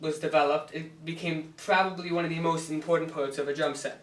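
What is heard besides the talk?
None of the usual background noises is heard.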